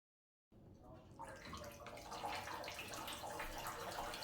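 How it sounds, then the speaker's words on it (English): Water streams from three holes punched at different heights in a plastic bottle, making a steady, continuous splashing and trickling wash that starts abruptly and grows a little louder, with no speech over it. "Let's observe the flow of water at each height."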